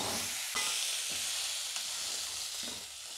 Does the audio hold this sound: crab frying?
yes